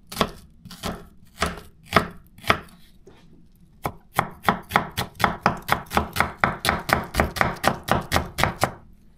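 A Zwilling self-sharpening kitchen knife chops food on a cutting board. A few spaced strokes come first, then a fast, steady run of close, crisp knocks with no talk.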